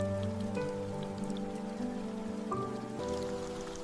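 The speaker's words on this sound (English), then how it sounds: "Listen to the rain." Rain falls steadily in a soft, even patter, set against a quiet, steady tonal background.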